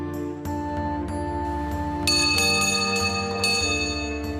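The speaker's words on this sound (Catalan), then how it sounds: "I sonen estes campanes, les que porta el rei." Several church bells of Valencia Cathedral ring out in layered, resonant strikes, with a fuller peal joining about halfway through and tones sustaining over each other.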